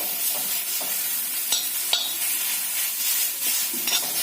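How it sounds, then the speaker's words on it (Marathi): A chili, salt and lemon juice mixture being stirred in a pan off the heat, with soft continuous scraping and a few sharper spoon clacks against the metal, close and steady, no talking. "हे सर्व मिश्रण असं छान एकत्र करायचं"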